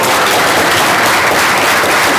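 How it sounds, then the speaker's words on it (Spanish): An audience applauds in a hall at an engineering conference to mark a birthday, a dense burst of clapping that stays steady and loud throughout. "yo le quería que le diéramos un gran aplauso porque hoy está de cumpleaños"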